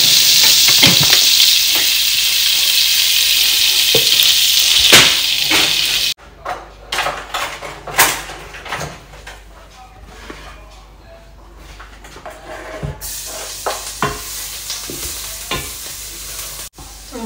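Onions frying for chicken tikka masala hiss in a steady loud sizzle, then quieter stirring with scrapes and clinks of a utensil against the pan.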